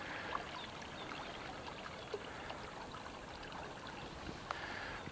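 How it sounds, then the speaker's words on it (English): A small creek trickles and burbles steadily at low volume, with a few soft splashes standing out against the continuous flow. "made it to the next little spot on this little creek that I'm fishing"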